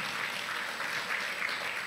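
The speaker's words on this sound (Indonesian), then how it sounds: "tepuk tangan yang terbaik" A church congregation at a Good Friday service applauds together in a steady, dense wash of clapping, even and sustained throughout, heard alone without any voices.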